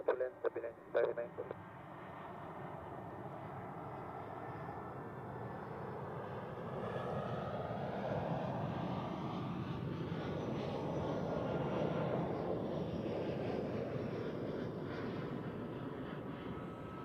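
An airplane landing on runway 14 at Zurich Airport, a steady broad engine and airflow roar that swells in the middle and holds loud to the end, with radio chatter briefly at the start.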